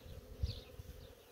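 Honey bees, a Caucasian and Anatolian cross, buzz steadily at a split beehive, a close, continuous drone with no talking.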